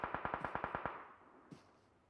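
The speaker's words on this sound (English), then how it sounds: "You can hear the shots now just starting to light up the map." Rapid burst of about eight gunshots from a team-based shooter video game during an esports qualifier match, evenly spaced and echoing, followed by a lone shot after a short pause as the sound fades out.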